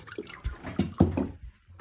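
Water from a leaking radiator draining through an opened fitting into a bucket, giving short irregular splashes and gurgles, close and moderately loud, with brief quiet gaps between spurts.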